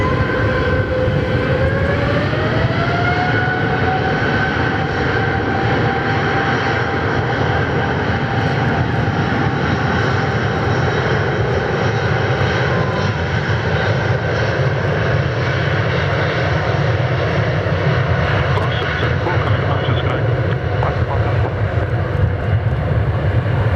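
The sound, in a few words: Mauritius airliner jet taking off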